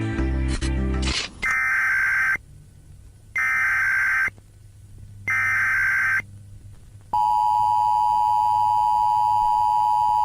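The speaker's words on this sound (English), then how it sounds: "Those alarm sounds never mean anything good though." Loud electronic emergency weather alert tones in long repeated bursts with short silent gaps, ending in a sustained steady alarm tone.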